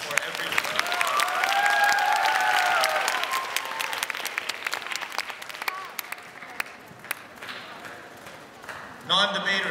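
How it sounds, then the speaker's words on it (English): Applause from the audience at a middle school debate grand final, a dense wash of clapping that swells loud for several seconds, then thins into scattered claps under a spoken voice before a brief burst near the end. "A round of applause for everyone."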